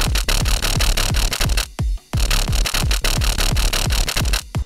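A growly, squishy drum and bass synth bass patch made in Serum, in a dense rhythmic pattern of punchy notes with a short gap near the middle, played alone.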